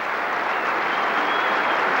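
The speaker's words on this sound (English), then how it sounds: "That's a good substantial crowd at Edgbaston here" A substantial cricket crowd at Edgbaston, at an England v New Zealand Test match in 1990, gives a warm round of applause, a dense, steady clapping that sounds spread out and sustained across the whole moment.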